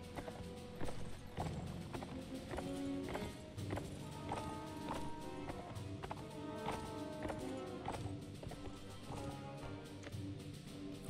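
Horses in the Mount and Blade Warband video game, hooves clip-clopping in a steady rhythmic run with a brief whinny, loud and close, mixed with game background sound and faint talk.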